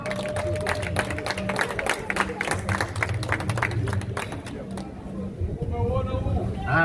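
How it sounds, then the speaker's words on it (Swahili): A crowd applauds at a political rally in Unguja, with sharp, scattered claps rolling on steadily while a voice talks over them, before the clapping thins toward the end. "Makofi kwao mengi mno."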